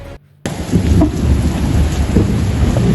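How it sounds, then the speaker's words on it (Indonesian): Heavy rain pours steadily with low rolling thunder underneath, loud and continuous after a brief near-silent gap at the start. "gimana kita mau kerja ini hujan kayak gini?"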